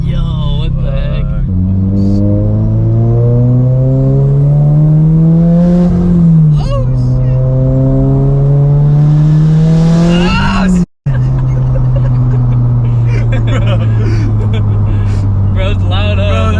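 A 500+ horsepower turbocharged Subaru BRZ accelerates hard, its engine note climbing in two long rising pulls with a brief gear-change dip between, loud and close, then cutting out abruptly before settling back into a steady drone.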